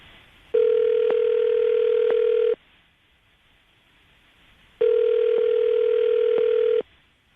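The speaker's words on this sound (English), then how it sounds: "we'll call him, see if we can get him on the phone" Two long ringback tones of a telephone call sound in steady rhythm, each about two seconds, separated by a pause of near silence.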